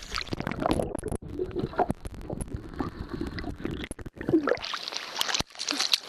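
Banjo-Kazooie game character entering water at a beach level, with splashing and gurgling watery game effects in uneven bursts across several seconds, no talk.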